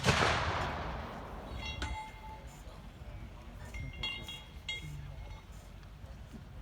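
A sharp blast from a German Pak 40 anti-tank gun opens, followed by fainter distant reports and metallic clinks over a rumbling battlefield background.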